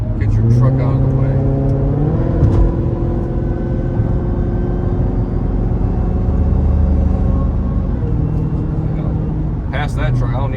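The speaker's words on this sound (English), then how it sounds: "y'all can hear that whine just nicely," A Dodge Charger Hellcat widebody drives along with a steady supercharger whine over a constant engine rumble and road noise, close and continuous, with someone talking over it.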